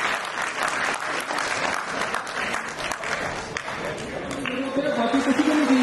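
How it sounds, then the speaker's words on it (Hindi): An audience at a scholarship program event claps in a sustained, fairly distant round of applause, with a voice speaking over it toward the end. "तालियां हो जानी चाहिए"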